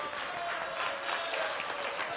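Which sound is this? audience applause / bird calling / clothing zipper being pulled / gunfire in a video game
audience applause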